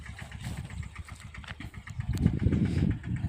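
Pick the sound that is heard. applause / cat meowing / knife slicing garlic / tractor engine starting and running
tractor engine starting and running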